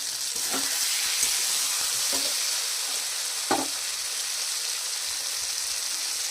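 Fritters frying in a pan give a loud, steady, bright sizzle, with a few soft stirring knocks scattered through it.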